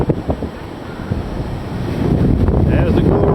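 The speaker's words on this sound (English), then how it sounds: "You can see we got some wind." Wind buffets the microphone on a beach at low tide, a loud rumbling gust that builds over a few seconds, with surf faintly behind it and a voice talking briefly.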